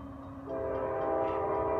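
Norfolk Southern intermodal freight train horn, a loud sustained multi-tone blast that swells in after a brief rumble, with the freight train's passing rumble underneath.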